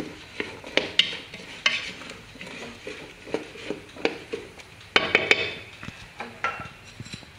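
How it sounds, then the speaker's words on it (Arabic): A spoon stirs chopped vegetables and tomato purée in a pot for a vegetable and oat soup, giving close, irregular scraping strokes with sharp clinks against the pot's side and no voices. "كنزيدو العسل ديال المطيشة على الخضرة، كنخلطو شوية باش يتجانسو مع العصير"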